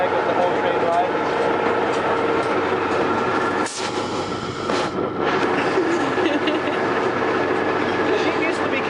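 A train ride near Centreville, with a loud, steady rumble and clatter of wheels on rails. The noise continues without pause, apart from a brief dip midway, and stays close and dominant throughout.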